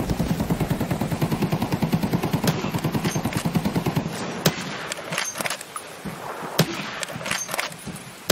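Rapid automatic gunfire in Escape From Tarkov, a dense rattling burst lasting several seconds, followed by scattered sharper single shots and impacts with no talking.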